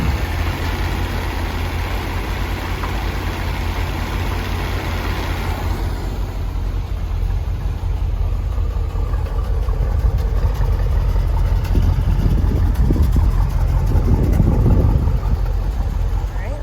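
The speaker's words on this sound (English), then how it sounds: "next we're going to start the engine up, take it for a spin" A 1973 Chevrolet Corvette engine starts and settles into a loud, rumbling idle close by, while people talk over it.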